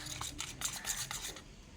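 Maida flour dough for burger buns is stirred in a bowl, with a quiet, rhythmic run of scraping and rubbing strokes, close and with no talk.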